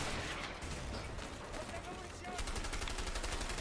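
Gunfire in the video game A Way Out, a loud, dense barrage of shots that ends in rapid, machine-gun-like bursts.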